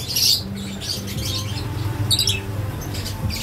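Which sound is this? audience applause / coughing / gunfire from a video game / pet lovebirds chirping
pet lovebirds chirping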